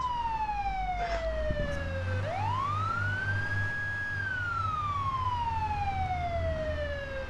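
Police car siren in the Arma 3 video game, a loud wailing tone that sweeps down, rises and holds, then falls slowly, heard clearly with engine rumble underneath and no talk over it.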